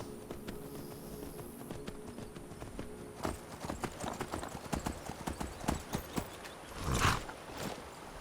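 A horse walks nearby, its hooves clip-clopping in an uneven rhythm that grows clearer partway through, with a short whinny-like burst near the end and no speech over it.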